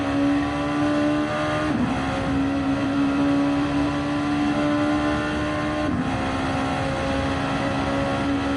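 A race car at the Le Mans circuit runs down the Mulsanne Straight, its engine holding a steady, sustained drone with two brief pitch dips around gear changes, loud and continuous with no talk.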